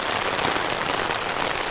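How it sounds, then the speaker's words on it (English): Heavy rain pelting down on a tarp over a bivvy camp, a dense, continuous hiss of drops drumming loudly and evenly throughout. "the rain is absolutely pelting it down"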